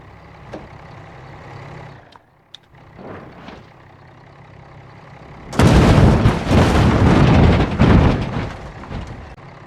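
A damaged school bus crashes in BeamNG.drive: quiet engine hum and a few small knocks, then a sudden loud, sustained impact of crunching metal and rumbling debris that stays heavy for several seconds before easing slightly.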